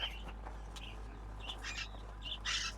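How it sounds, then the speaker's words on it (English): Caged budgies at a monastery market chirp in short, scattered bursts that are faint to moderate, set in the background against a low steady hum. "there's the budgies in the background there"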